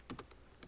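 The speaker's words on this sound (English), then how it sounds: "I'm going to type in a specific address" Light taps on a mobile device's screen keyboard as an address is entered, four soft, quick clicks in a short burst, faint and close.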